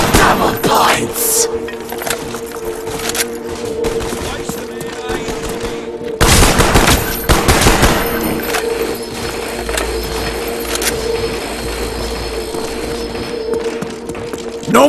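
Gunfire in the video game Black Ops Zombies, with dense bursts of shots and mechanical weapon clatter throughout and a loud volley around the middle, backed by steady game music.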